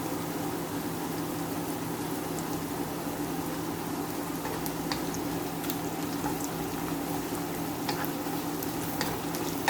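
Food frying in a pan while being stirred, a dense even sizzle and bubbling with light scraping of the utensil, close and steady throughout.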